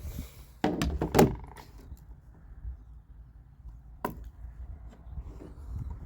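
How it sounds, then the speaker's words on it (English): A T4E TR68 air pistol fires round balls over a chronograph, giving a few sharp, close snapping cracks spaced apart with quiet gaps between them. "So here's 9 shots."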